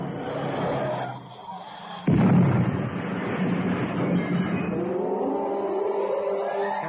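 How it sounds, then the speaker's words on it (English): A car swerving into a rock face in a radio drama, an engine roar cut off by a sudden heavy crash, then a long rumbling aftermath of debris and strained tones. "Cannon's car had swerved into the rock face"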